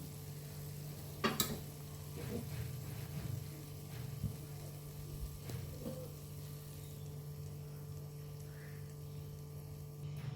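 Ghee heats in a pan for a tadka in a methi shak dish, producing a soft, faint, continuous sizzle with a low hum and a couple of brief clinks near the start.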